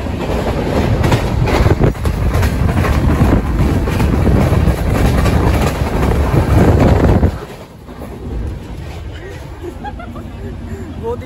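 A moving passenger train between Kathua and Katra rumbles and clatters loudly for several seconds, with faint voices in the carriage, then the noise drops sharply to a much quieter background.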